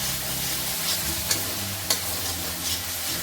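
Paneer masala with salt and turmeric being mixed in a pan, a loud continuous sizzle broken by a few sharp spoon scrapes and taps against the metal.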